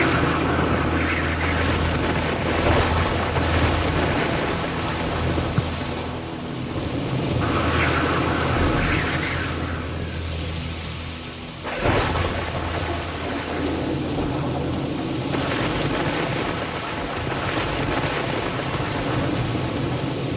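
Staged storm effect for a school stage play aboard a ship: steady heavy rain hiss throughout, with rolling thunder swelling and fading in several waves, loud and enveloping, no voices over it.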